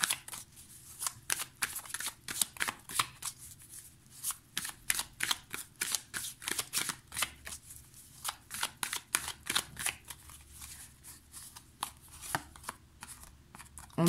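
Luna Somnia Tarot cards being shuffled by hand, a steady run of quick, crisp riffling snaps and flicks, close and fairly quiet, with no talking over them.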